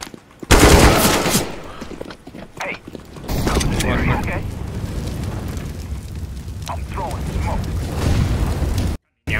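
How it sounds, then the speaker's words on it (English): Counter-Strike: Global Offensive gameplay with a flashbang going off followed by bursts of gunfire, loud booms and rapid shots against intermittent game noise, with a player talking over it. "Throwing a flashbang."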